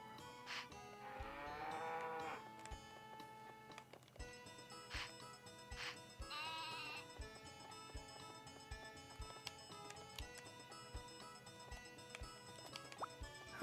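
Farm animals moo in the video game Harvest Moon 64, several short tonal calls in a row, mid-level and clear over a steady backing of game music with small dripping and clicking effects.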